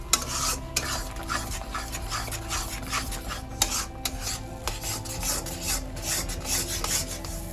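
Potol chingri bata, a paste of pointed gourd and shrimp, frying in a pan while being stirred, with continuous scraping and rasping strokes over a low sizzle, close and busy throughout.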